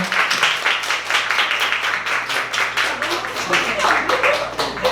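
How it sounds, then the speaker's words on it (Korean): Audience applause welcoming a vocalist onto the stage at a community association gathering, a dense steady wash of clapping lasting throughout, with voices and crowd noise mixed in. "박수 부탁드리겠습니다."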